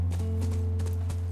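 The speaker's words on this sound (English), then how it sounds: "That's our horse." Horse hooves clip-clop in The Last of Us Part 1, several quick soft hoofbeats over a loud steady low hum of game ambience.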